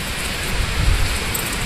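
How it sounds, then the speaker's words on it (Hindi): Heavy rain pours outdoors during a storm, a steady loud hiss with a deep low rumble swelling near the middle like rolling thunder, no voices. "ये बारिश, और बिजली कितनी कड़क रही है।"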